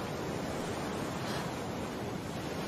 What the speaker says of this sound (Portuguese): Sim, é a voz do mar.